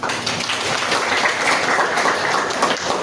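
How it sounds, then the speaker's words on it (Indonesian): A school class gives a thick, steady burst of applause, many hands clapping close together into a continuous rattling wash that holds at the same loudness throughout. "Beri tepuk tangan"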